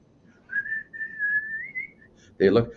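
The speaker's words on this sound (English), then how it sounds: "They whistle." A single sustained whistle holds a wavering pitch for over a second, then ends abruptly as a brief burst of voices cuts in.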